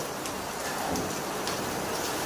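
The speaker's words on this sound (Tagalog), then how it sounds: "Oh, sarap na ulan na." Steady rain pours down outdoors as a dense, continuous wash of sound with faint scattered patters, loud and close, with no clear talking.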